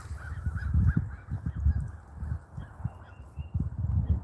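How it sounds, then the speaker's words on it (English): Crows calling outdoors on a mild late-March day, a series of harsh caws repeating every half second or so at moderate distance. "Crows are pretty active."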